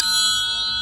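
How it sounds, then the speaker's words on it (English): Jingle bells ring steadily and loudly for under a second, a bright continuous shimmer of small metal bells shaken alone with no voices. "jingle bells. That's gonna help."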